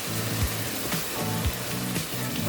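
Onion and pepper stew sizzles and bubbles steadily in a pot, a soft continuous frying hiss with faint clinks and taps, close and alone without speech.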